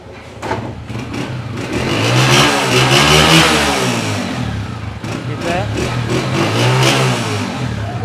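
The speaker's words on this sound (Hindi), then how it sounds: "दोस्तों बाइक ये भी स्टार्ट खड़ी है, होंडा 125।" A 2021 Honda CG125 motorcycle engine revs up and down through several throttle swells, close and loud, with a brief spoken phrase over it.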